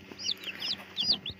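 Day-old Zagorsk salmon chicks peep in short high chirps, four or five clear calls over a soft background, close by with no speech.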